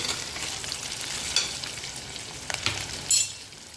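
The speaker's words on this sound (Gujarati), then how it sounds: "એને ટ્રાન્સપરન્ટ થાય થોડીક શેકાવા દેવાની છે." Onions and peanuts sizzle steadily in hot oil in a pan for Gujarati vaghareli khichdi, a soft continuous frying hiss with a few stirring scrapes and crackles, no talk.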